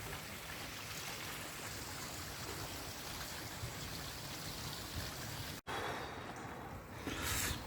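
Steady, faint rushing and trickling water flows continuously from a drain into the River Irk, with a brief dropout near the end and a slight swell afterward.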